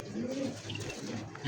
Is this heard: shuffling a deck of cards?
no